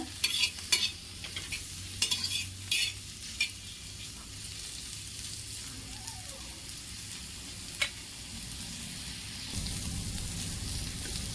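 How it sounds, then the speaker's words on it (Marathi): Two large chopped onions frying in oil, a close sizzling hiss broken by several quick utensil scrapes and taps early on, then a calmer steady fry with occasional stirring. "मोठे दोन कांदे कट केलेले ते आता तेल टाकून भाजून घेते गुलाबी होईपर्यंत"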